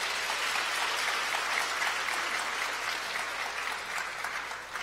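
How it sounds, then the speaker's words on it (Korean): An audience at the sixth memorial concert for a late Catholic priest gives warm, sustained applause, a dense even wash of many hands that fades slightly near the end, with no talking over it. "큰 박수 부탁드립니다."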